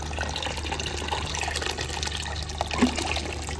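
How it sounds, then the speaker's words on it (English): Hot water is poured steadily into an ultrasonic cleaner holding Vespa LX 125 carburettor parts, a continuous close trickle and splash with no talking. "Just adding a little bit more hot water."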